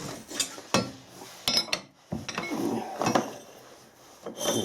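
A steel test bar being loosened in an ER40 collet chuck on a lathe, giving close, scattered metallic clicks, knocks and rubbing scrapes in short bursts with brief pauses between.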